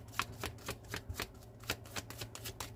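Tarot cards are shuffled close up, producing a quick run of crisp riffling bursts at a fairly even rhythm, quiet and with no voice over them.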